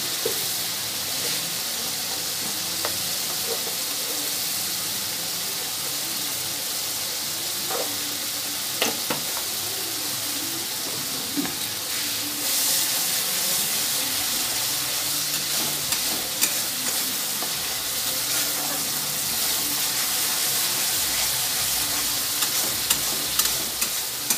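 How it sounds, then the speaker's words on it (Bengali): Spice paste with a little sugar and water fries over high flame in a pan, giving a steady close sizzle with scraping and stirring strokes throughout and no talking. "মশলাটা প্রায় ভাজা ভাজা হয়ে গেছে"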